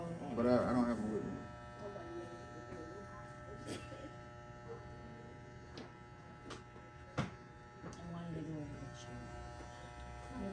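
An electric shaver run over a temp fade haircut gives a faint, steady buzz beneath ongoing conversation, with a few small clicks along the way.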